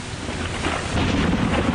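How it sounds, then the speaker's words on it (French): A thunderstorm roars loudly and continuously, a dense rumbling wash of thunder and heavy rain that swells slightly toward the end, with no voices. "S'il vous plaît, arrêtez la tempête!"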